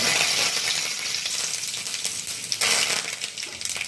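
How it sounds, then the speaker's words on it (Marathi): Cumin seeds sizzle in hot oil in a kadhai, a steady dense crackle with bright spitting pops throughout, a burst of fresher hiss partway through, no talking. "आता याच्यामध्ये जिरे बुईरे टाकली मी"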